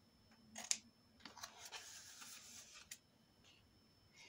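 Quiet, close scissor snips on paper, a few short cuts and a longer slicing stretch, with pauses between and no talking.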